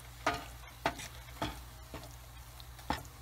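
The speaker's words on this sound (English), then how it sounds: "Mix it well so that the oil will coat the liver pieces and fry for 4 to 5" Pieces of mutton liver frying in oil in a pan, a faint steady sizzle broken by five sharp scraping clicks as they are stirred at irregular intervals.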